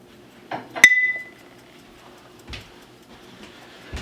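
Glass jars are filled for fermenting kohlrabi. A sharp glass clink rings out clearly and briefly, followed by quieter scattered knocks and taps of jars and contents in a quiet room, with no voices.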